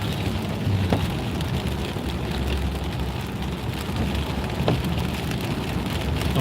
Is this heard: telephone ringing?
no